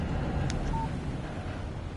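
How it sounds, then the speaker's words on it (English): A short electronic text-message alert chimes once, clear but brief, from a phone in the video game Alan Wake Remastered, set against a steady low background hum. "Text message from Barry."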